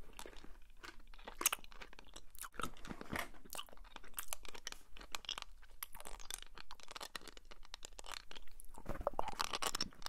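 Close, crisp crunching and chewing of a yellow American candy filled with little balls, sharp irregular bites and grinding repeated steadily over several seconds, no talking.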